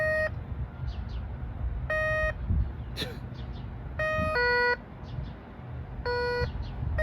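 A SkyCruiser metal detector passed over a copper penny on asphalt emits repeated short electronic beeps at two slightly different pitches. The beeps come in bursts, with a voice audible in the background.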